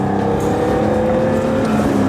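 A BMW M5 pulls hard through second gear on a track, its engine note loud and close, climbing steadily over about two seconds with no talk.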